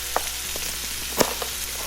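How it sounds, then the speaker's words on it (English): Toy shrimp in a Melissa and Doug tacos and tortillas pretend-play kitchen set, a steady hissing sizzle-like wash with a few small clicks and taps, no one talking. "just put the shrimp down and let it sizzle a little bit."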